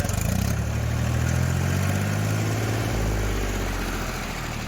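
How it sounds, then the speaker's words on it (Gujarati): A 2007 Mahindra 275 DI tractor engine running steadily, a close, loud diesel chug with a constant low rumble and no pauses. "મહિન્દ્ર બસો પિચોતેર ડીઆઈ મોડલ છે બે હજાર સાતનું તમે જોઈ શકો છો એન્જિન"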